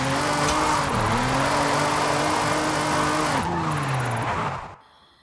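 A drift car in Forza Horizon 5 holds a loud, steady engine drone with long tire squeal as it slides, pitch dipping and rising with throttle changes before cutting off abruptly near the end.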